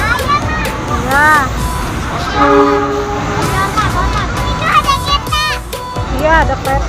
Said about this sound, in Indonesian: Iya, ada kereta.